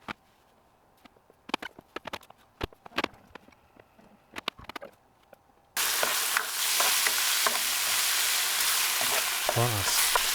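Red onions hit a hot pan in a Greenland kitchen: first a few sparse clicks and taps, then a sudden loud, steady sizzle of frying that holds to the end.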